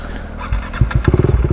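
A KTM 390 Duke single-cylinder motorcycle pulls away, its engine note rising into rapid close-up pulsing thumps as it accelerates, loud and alone for a brief moment.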